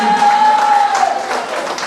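An audience in a hall applauds, a diffuse wash of many hands clapping at moderate loudness, with a steady tone running beneath it for the first second.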